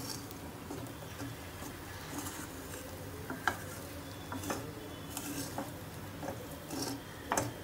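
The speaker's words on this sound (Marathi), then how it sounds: "त्याच्यामध्ये टाकून चांगल्या प्रकारे परतून घेऊया." Sabudana khichdi stir-fried in a pan with little oil, a soft continuous sizzle with scattered light scrapes and taps of the spoon, fairly quiet and without talk.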